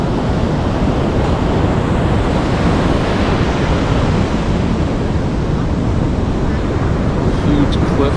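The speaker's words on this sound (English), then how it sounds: "This is called Gibson Steps Beach." Surf rolls in steadily at Gibson Steps Beach on the Great Ocean Road beneath tall cliffs, a loud continuous roar of breaking waves mixed with gusting wind buffeting the microphone, with no pause throughout.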